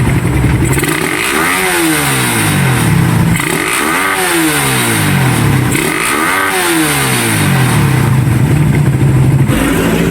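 A Suzuki Raider 150 motorcycle with a 28mm Keihin carb revs up close and loud, three repeated throttle blips rising and falling over a constant idle roar with mechanical clatter.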